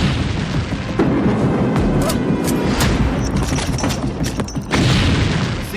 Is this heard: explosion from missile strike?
yes